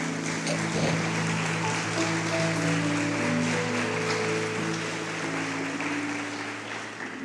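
A church congregation applauds together, a steady sustained wash of clapping over a held musical tone and faint background voices.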